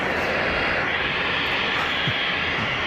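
Steady broadband roar of an Air Dolomiti airliner taxiing at Geneva Airport, a continuous loud engine rush with no clear change over a few seconds.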